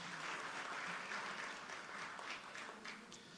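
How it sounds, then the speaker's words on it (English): Steady audience applause fills a hall at an award ceremony, a dense even wash of clapping that holds throughout without letting up. "Let's please give her another round of applause."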